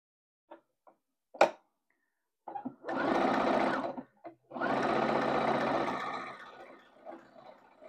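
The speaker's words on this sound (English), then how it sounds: "pull this back up under the machine and do these last 3 seams" A sewing machine stitches the last seams of a quilt made from upcycled denim jeans in two sustained runs, the second longer, after a few sharp clicks and brief pauses.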